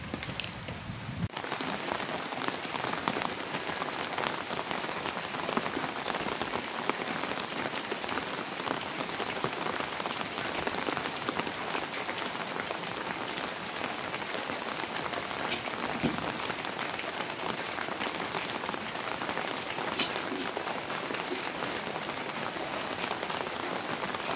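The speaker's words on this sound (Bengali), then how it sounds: "বাহিরে টিপ টিপ বৃষ্টি পড়তেছে, টিপ টিপ করে বৃষ্টি পড়ে।" Light rain patters steadily outside a village home in the morning, a dense, even hiss of drops on surfaces that continues without a break, fairly close and alone with no voices.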